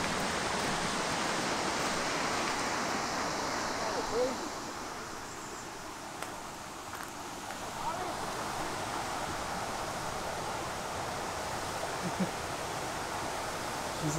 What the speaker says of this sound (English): I can hear the water. Yeah, it's loud.